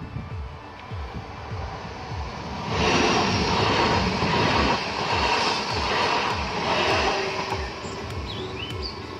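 A jet aircraft roars past a moving train in Italy, swelling into a broad loud rush for several seconds over the steady rhythmic clatter of rail wheels, then easing off.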